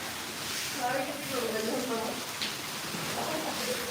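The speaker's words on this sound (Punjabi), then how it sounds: "ਸਾਡੇ ਮੀਂਹ ਪਈ ਜਾਂਦਾ ਜੀ ਪੂਰੇ ਜੋਰਾ ਸ਼ੋਰਾਂ ਦਾ" Steady heavy rain pours down in a continuous broadband hiss, with someone talking over it throughout.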